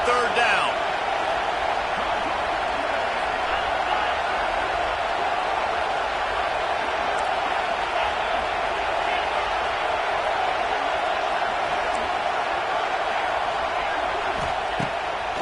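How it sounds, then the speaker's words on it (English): A football stadium crowd roars on a third-down defensive stand, a dense, steady wall of cheering and noise that stays loud and unbroken throughout. "Decibels rising as the crowd gets behind this defense on third down"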